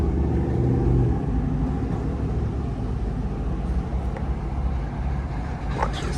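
1957 Lancia Aurelia B24S Cabriolet driving with a gear change, a steady low engine rumble that dips and shifts in pitch, close and fairly loud.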